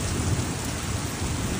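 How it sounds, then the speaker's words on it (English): Torrential rain pours down during a thunderstorm in Tokyo, a dense, continuous loud roar of heavy rainfall with deep rumbling thunder underneath, steady throughout with no voices. "Cumulonimbus clouds have developed in some places, causing torrential rain and lightning"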